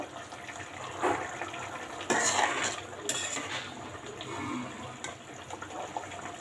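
Bitter gourd sautéed in a pan with small puti fish, with irregular metallic clinks and scrapes of a utensil against cookware, a few louder knocks, and a soft, steady kitchen background.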